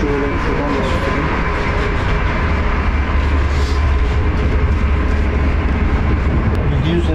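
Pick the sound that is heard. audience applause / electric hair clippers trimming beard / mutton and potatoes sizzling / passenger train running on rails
passenger train running on rails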